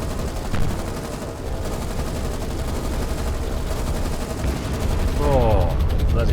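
Aircraft strafing gunfire in the naval combat game War on the Sea, heard as dense rattling bursts of rapid fire over a constant loud rumble of battle noise.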